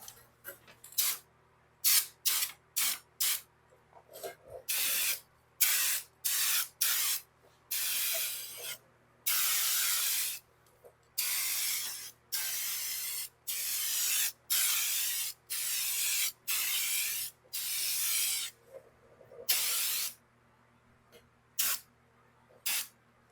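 Repeated hissing bursts from a spray paint can painting a 1971 Volkswagen Super Beetle, some short and some held for a second or two, close and loud with brief gaps between.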